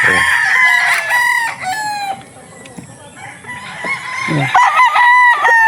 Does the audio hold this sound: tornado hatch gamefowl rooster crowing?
yes